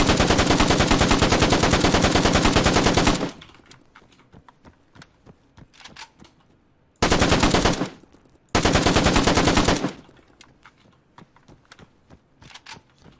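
A G3 rifle loaded with a 75-round drum magazine fires in ARMA 3: a long sustained automatic burst lasting about three seconds, then scattered faint clicks, then two shorter loud bursts, with no talking.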